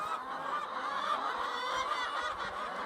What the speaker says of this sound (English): These chickens are loud.